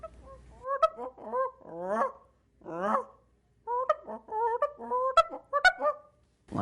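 A human voice imitates a Canada goose feeding call in the air, giving a string of close, loud honking and clucking notes in uneven bursts separated by short pauses.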